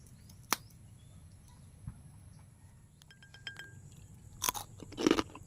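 Crunchy fried pork skin chicharon bitten and chewed, a few sharp crisp crunches close up, one near the start and a denser cluster toward the end, with quiet gaps between.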